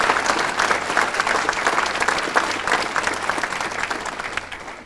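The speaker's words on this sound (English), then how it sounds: "Let's give them all a round of applause yet once again." An audience at a Hall of Distinction awards ceremony gives dense, continuous applause for about five seconds, holding steady and then easing slightly toward the end.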